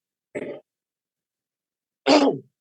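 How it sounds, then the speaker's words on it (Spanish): Two separate coughs from one person, a short one followed by a longer, harsher one after about a second and a half of silence, close and alone. "ahora sí van a disculpar la tos"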